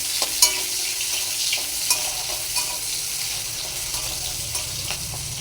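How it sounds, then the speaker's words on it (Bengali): Chopped onions sizzle steadily in a hot pan for a soybean and potato curry, with scattered spoon scrapes and taps from stirring over a constant hiss, close up and with no talking. "পেঁয়াজ কুচিটা লাল লাল করে যে ভাজা হয়ে যাবে"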